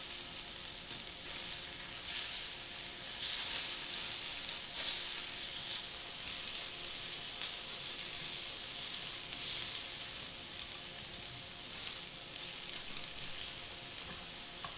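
Shawarma meat frying on a flat burger-style griddle, a steady bright sizzle and hiss running continuously with occasional stirring scrapes, no talk.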